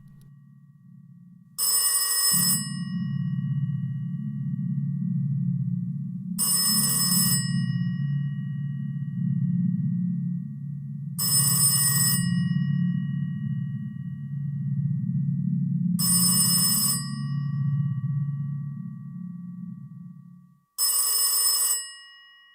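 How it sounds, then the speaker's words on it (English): An old-style telephone bell in a public phone box rings in five evenly spaced bursts about five seconds apart, each a bright metallic trill over a steady low hum, with no voices. "So I'm starting to call all the phone boxes in case there's someone out there."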